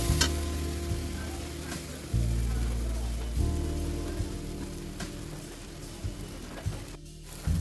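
Masala of tomato, Kashmiri chili powder, turmeric and hing sautés in oil in a pan with a soft, steady sizzle, broken by occasional scraping stirs and a few clinks. Nothing is said over it.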